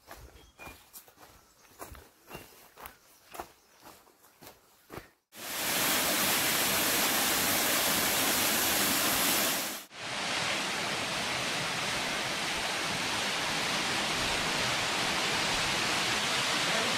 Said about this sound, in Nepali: हामी सानो झरनामा छौँ, माथिबाट ठुलो झरना छ